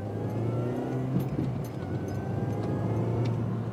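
A supercharged R53 MINI Cooper S engine running nearby, producing a steady, throaty low drone with a faint whir and little change in pitch.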